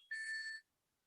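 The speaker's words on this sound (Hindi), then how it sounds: "एक मुकेश जी का फोन आ रहा है।" A phone rings with an incoming call, a short bright electronic tone burst with a steady pitch lasting about half a second. It is loud and stands alone, then cuts off into silence.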